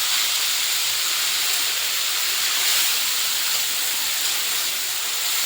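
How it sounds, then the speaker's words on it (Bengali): Grated tomato sizzles in a hot pan with a little nigella seed, cooked for a Bengali mustard okra curry, giving a steady, loud, steamy hiss that holds throughout with no talk. "এখন দিয়ে দিলাম গ্রেট করে রাখা টমেটোটা।"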